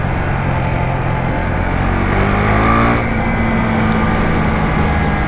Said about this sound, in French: le moteur est rageur quand on monte dans les tours